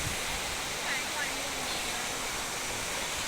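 Tad Yuang waterfall roars as a dense, steady rush of falling water, loud and constant throughout, with faint voices underneath.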